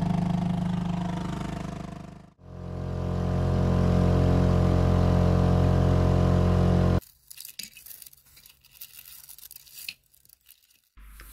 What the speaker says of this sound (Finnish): Moottori lähti käyntiin.